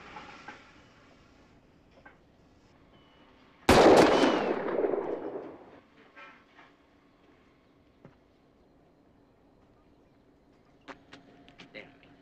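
A single sharp pistol shot cracks loudly and rings out with a long decaying tail, followed by a few faint clicks and small knocks in an otherwise quiet outdoor scene.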